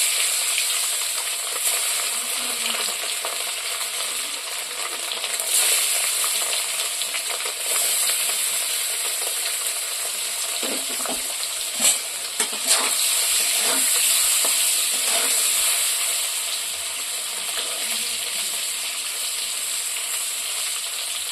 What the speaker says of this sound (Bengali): এই তেলে ডিমগুলো দিয়ে দেব।